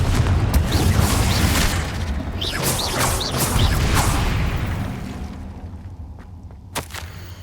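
Loud booming fire-spell explosions from the Hogwarts Legacy video game, a dense roar of crashes and whooshes with several sharp bursts, fading to near quiet before one last hit.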